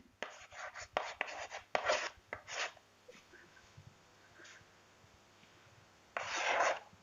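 Pen scratches across paper while jotting notes, several quick bursts of scribbling strokes close by, a pause with faint sounds, then another sustained scratch of writing near the end.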